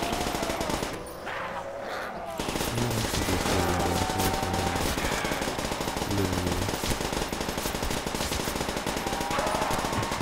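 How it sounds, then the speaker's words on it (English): Loud, continuous machine gun fire from Call of Duty World at War, played on a Minecraft-style village custom map, rattling without pause for about ten seconds under game music and other effects. "Infinite ammo means infinite time to shoot this asshole."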